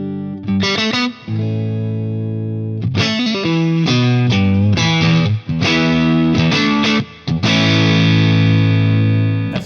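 An S-style electric guitar on its neck pickup runs through effects with distortion and chorus, sustained chords and riffs ringing loud and close with brief gaps between phrases, no voices.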